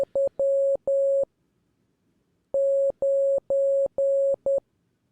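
Two bursts of steady electronic tones, short and long beeps in a Morse-like pattern from the puzzle game House of Puzzles, separated by a quiet gap; clean and fairly loud.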